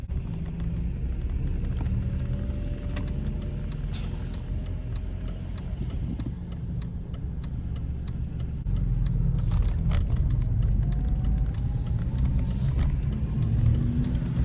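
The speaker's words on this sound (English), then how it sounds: "now we're just going to see if it drives fine" A BMW E46 with two snapped differential bolts drives slowly, its low engine rumble steady and close throughout, with faint clinking rattles and a slight rise in road noise partway through.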